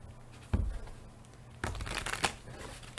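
Tarot cards being shuffled, first one short riffle and then a longer, denser papery flutter of cards, heard up close.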